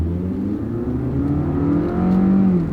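A car with an engine misfire accelerates hard in manual mode on a test drive, its engine note rising steadily and loudly and swelling near the end, with no talk.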